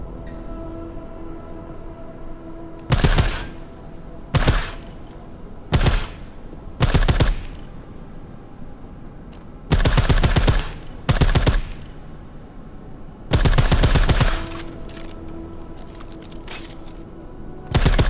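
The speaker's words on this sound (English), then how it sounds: "I like how silencers reduce sound, but the trade-off is less stopping power, less damage per hit." Silenced gunfire in Deus Ex: Mankind Divided: about eight short, loud bursts of shots at irregular intervals, each standing out sharply over a low, steady background hum.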